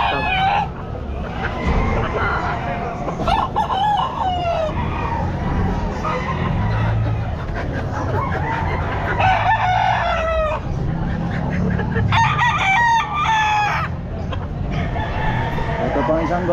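Roosters at a pet market crowing repeatedly, with several loud calls near and farther off over general chicken clucking, steady crowd noise and people talking.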